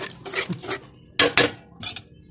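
A metal lid set onto a cooking pot, a few short clinks and clatters, two sharp knocks in close succession, then a final softer rattle, close and alone.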